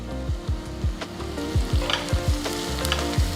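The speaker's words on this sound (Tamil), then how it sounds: "ஸோ பாருங்கள், வெங்காயம் ஓரளவுக்கு வதங்கியிருக்கு" Onions sautéing in a pan with a pinch of asafoetida give a loud, close sizzle broken by rhythmic scraping strokes of a spatula, roughly two per second, with no talking.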